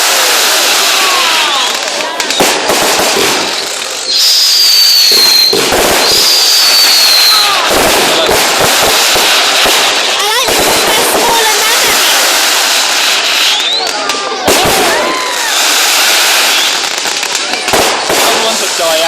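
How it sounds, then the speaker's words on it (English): Fireworks at a public display boom and crackle loud and continuously, with whistling rockets rising among the bursts, while onlookers talk and react throughout. "Fireworks are too big for your camera."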